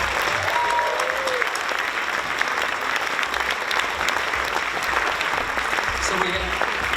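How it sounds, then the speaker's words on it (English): Loud, sustained applause from a banquet audience at a community awards dinner honouring a longtime local business family, dense clapping filling the whole stretch with faint voices and whoops mixed in. "Let's give them a big round of applause."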